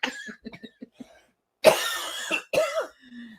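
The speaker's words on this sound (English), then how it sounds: "Oh, you're coughing into the mic," A few short throat-clearing coughs close to the microphone, followed by two harsher, louder coughs with a brief pause between them.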